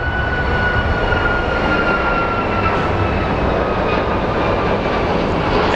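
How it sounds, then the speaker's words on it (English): An Alaska Airlines jet departs Phoenix Sky Harbor International Airport for Seattle. Its engines make a loud, continuous broadband roar that holds steady throughout, with no voices. "There goes our Alaska Airlines for Seattle."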